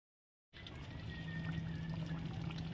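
Water pours steadily into a pot of Bengali-style chicken leg curry, a continuous soft splashing stream that starts abruptly after a moment of silence and runs on at low volume.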